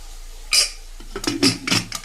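A metal lid clinks onto a cooking pot on the stove in a home kitchen, with a sharp clatter followed by several lighter rattling taps as it settles, close and fairly loud.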